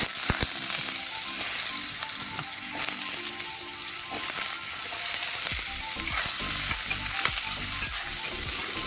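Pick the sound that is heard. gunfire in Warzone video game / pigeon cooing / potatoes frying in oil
potatoes frying in oil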